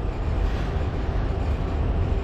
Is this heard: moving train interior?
yes